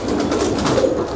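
Round-tailed pigeon cooing close by, a soft, steady, throaty coo filling the short moment with no voices over it.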